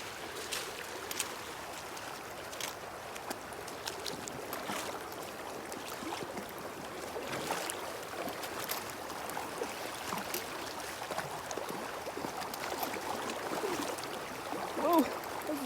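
Stream water at a hiking trail crossing on the John Muir Trail near Muir Pass and Evolution Valley, a steady broadband rush and trickle running throughout with hikers talking over it.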